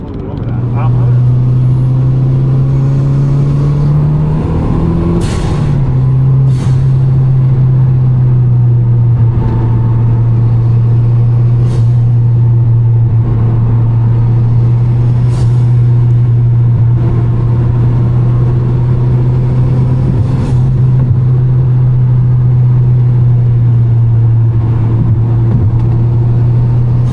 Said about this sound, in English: Driving around along this, it's pretty bumpy road right now.